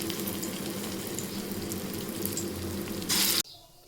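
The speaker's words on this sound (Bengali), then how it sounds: "তেলটা গরম হয়ে গিয়েছে, এখন আমি এর মধ্যে এক চামচ করে ঢেলে দেব আর বড়ার আকারে ভেজে নেব" Spoonfuls of pea and shrimp fritter batter frying in hot mustard oil, a continuous close sizzle and crackle that swells briefly near the end and then cuts off abruptly.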